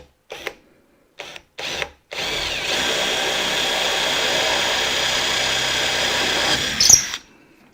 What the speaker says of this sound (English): We'll just drill it straight through.